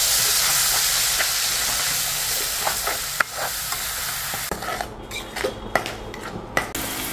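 Onion and green chilli paste hisses and sizzles in hot oil as it is stirred, a close, steady frying hiss with light scrapes and taps of a spatula against the pan.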